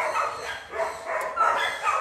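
A German Shepherd, an adult female, gives soft yips and whimpering barks that come and go in short bursts over about two seconds, moderately close and alone without talk.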